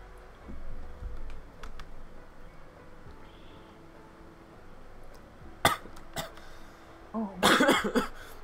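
A couple of short, sharp coughs burst out near the end after a stretch of quiet background, with faint clicks earlier.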